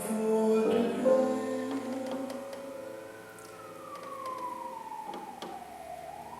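A wailing emergency siren rises and falls outside, moderately loud at first and then fading into a long gliding tone, heard alone without voices.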